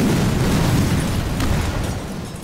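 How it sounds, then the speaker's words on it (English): A loud, sustained explosion in the World War II shooter Sniper Elite 4, a deep booming roar with crackling debris that fills the whole moment and slowly fades. "A lot of explosions happening."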